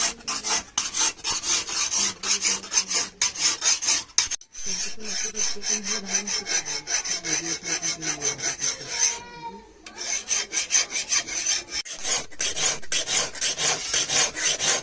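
A new file rasps along the edge of a billhook blade, sharpening it in a traditional Konkan farm-tool workshop; steady rhythmic strokes repeat close up, pausing briefly twice before resuming.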